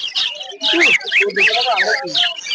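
Small caged birds at the Uluberia bird market chirp and tweet in quick, bright, overlapping bursts close by, with almost no pause between calls.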